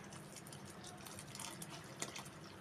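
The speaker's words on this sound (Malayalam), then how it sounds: "300 ഗ്രാം ശർക്കര പാനിയാക്കിയത് ഒഴിക്കുകയാണ്." Jaggery syrup, 300 grams, poured into rubbed wheat flour dough for steamed banana-leaf ada, giving a soft continuous liquid trickle with faint splashy drips and one brief sharper splash near the end.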